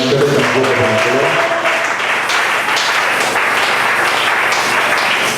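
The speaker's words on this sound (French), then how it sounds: "Applaudissez pour le Seigneur." A church congregation applauding during a sermon, dense sustained clapping throughout, with a voice speaking or singing over the first second or so.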